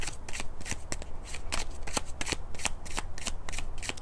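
Crisp, rapid riffling of a brand new deck of playing cards being shuffled, repeated bursts of flapping card edges close up and fairly loud, with no talk.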